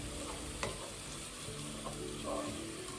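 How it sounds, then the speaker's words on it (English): Onions fry in a pan for a mushroom biryani, giving off a dense, steady sizzle. Occasional scrapes and clinks from stirring rise briefly above the constant crackle. "Now this has been frying for about 4 to 5 minutes."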